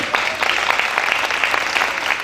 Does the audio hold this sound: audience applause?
yes